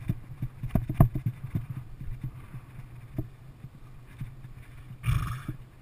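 A person mimics a horse with rhythmic tongue clicks like clip-clopping hooves, ending in a short breathy whinny-like burst.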